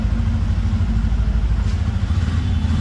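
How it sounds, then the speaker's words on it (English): A test-ride motorcycle's engine gives a deep, steady rumble from its exhaust, loud and continuous with a low throbbing pulse and no talk over it. "The exhaust note is really premium. It feels like a very big bike exhaust."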